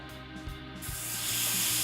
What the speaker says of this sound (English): That nice sizzle. That's exactly what you want to hear.